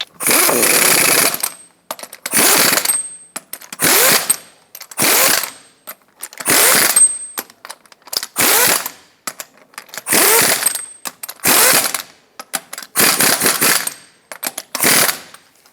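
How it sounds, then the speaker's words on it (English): Impact wrench tightening lug nuts on a Ram 2500 pickup wheel during a front brake job, loud rattling bursts of about a second each, repeated roughly nine times with short pauses between. "Put on all 8 of your lug nuts, bottom them out in a cross pattern, and also in a cross pattern, torque them to 130 foot-pounds."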